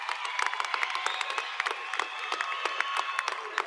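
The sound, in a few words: graduation audience applauding students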